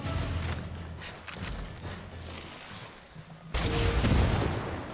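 Enemy gunfire in Ghost Recon Wildlands comes as bursts of sharp cracking shots, scattered at first, then a louder, denser volley near the end.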